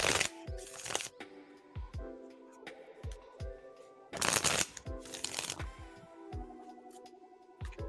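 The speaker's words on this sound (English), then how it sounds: "let's shuffle real quick" Tarot cards are shuffled by hand in several quick riffling bursts, with sharp crisp flutters separated by softer taps and slides of the deck, close and clear with no talking.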